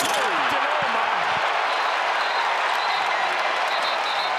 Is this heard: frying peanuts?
no